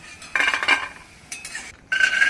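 A spoon scrapes and clinks against a pan while lifting fried almonds out of hot ghee, a few short metallic scrapes separated by brief pauses, close and clear, with no talking.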